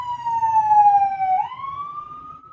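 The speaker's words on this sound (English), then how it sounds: "Ambulance, obviously, is very annoying." Siren wail from an emergency vehicle, a single long descending tone that dips then rises again as it passes, loud and clear over low road rumble, with no talk.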